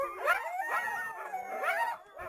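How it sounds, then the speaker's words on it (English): Coyotes howling and yipping in a played recording, a pack of wavering, rising and falling howls overlapping for a couple of seconds, fairly close and loud with no talk over them. "Here's coyote sounds."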